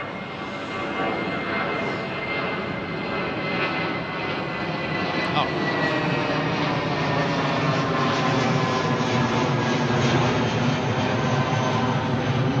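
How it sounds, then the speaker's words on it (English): A United Boeing 777 jet bound for Washington departs runway 09R at London Heathrow, its engines roaring loud and steady throughout as it climbs, with people talking beneath the noise. "United 777 lined up. This will be a screamer. Heading out to Washington."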